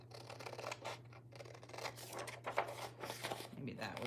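Close scissors snipping paper for a fan-shaped journal, brief cuts and paper rustle under a steady low hum, with someone talking over it.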